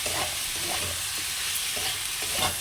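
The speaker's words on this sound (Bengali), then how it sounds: "এবার একসঙ্গে এটা আবার ভেজে নেবো" Cooked rice frying with sugar and chilli powder in a pan, giving a steady, loud, close sizzle broken by repeated scraping stir strokes, with no talking.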